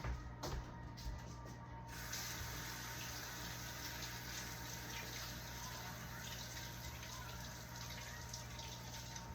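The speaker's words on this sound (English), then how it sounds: "let me go wash my hands" Tap water runs steadily into a sink for hands being washed in a home kitchen, a constant close hiss with faint splashing changes, no speech.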